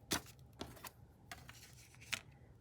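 Paper is torn by hand for a fall leaves greeting card in a few short, separate ripping bursts with brief pauses between them, close and fairly quiet.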